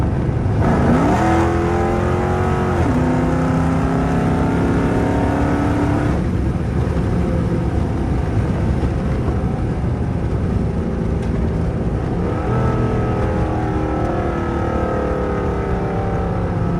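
Dodge Charger R/T with over 400 horsepower revving hard while driving, loud engine climbing through several rising pulls with gear changes between them, close and continuous, no talk.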